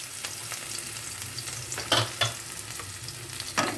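Crushed garlic frying in mustard oil in a kadai for mutton, a steady low sizzle under a few sharper stirring scrapes and clatters near the middle and end, no voices.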